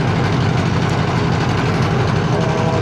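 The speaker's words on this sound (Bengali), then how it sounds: "নৌকাটা ছাড়ছে।" A boat engine drones as the boat pulls away from a sandbank on the Padma river at Rajshahi; the low, loud, steady mechanical rumble is close and continuous, with no voices.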